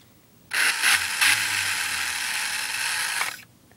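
Small motor of a homemade Nerf gun mortar contraption running in one three-second burst, a loud close mechanical ratcheting whir with gear clatter, starting and stopping abruptly.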